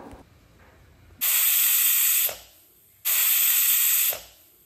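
A pressure cooker holding bananas in water whistles twice, each a loud, sustained hiss of escaping steam lasting about a second, with a quiet pause between the two.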